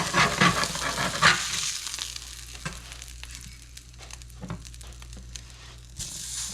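Burger patty browning on a flat griddle for a double smash burger, a steady close sizzle and spatter with a few sharper crackles, no voices over it.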